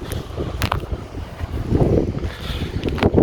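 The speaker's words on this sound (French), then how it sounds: "il y a un petit peu de vent encore" Wind gusts buffet a microphone beside a camper van at a rest spot, a rough, uneven rumble that swells and fades across a few seconds with scattered knocks.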